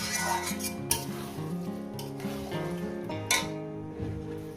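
Goat meat curry with potatoes is stirred and sautéed in a pot, with a metal spoon repeatedly scraping and clanking against the pot over a soft background sizzle.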